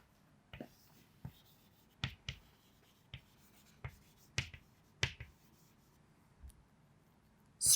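Handwriting a definition produces a series of short, faint scratches and taps, around a dozen strokes at irregular spacing in a quiet room.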